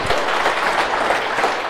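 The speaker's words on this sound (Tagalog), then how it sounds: "Palakpak kini Lord" A church congregation applauds during an Ilocano-language sermon on Christ's resurrection, with steady, continuous clapping that stays loud throughout.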